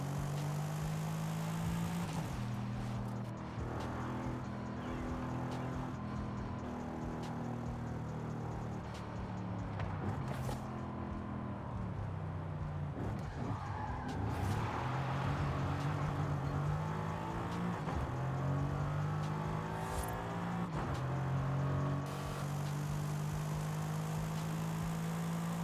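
A reworked engine note plays for a Mercedes-AMG GT63 S tuned to 900 hp in Forza Horizon 5. It drones and revs continuously with shifting harmonic tones and occasional sharp changes, close and alone, with no one speaking.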